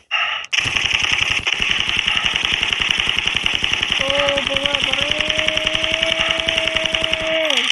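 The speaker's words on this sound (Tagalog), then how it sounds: "Bumabaril." Rapid automatic gunfire from a modded weapon in a video game rattles in a dense, even stream of close shots for several seconds, with a tonal whine rising over it partway through.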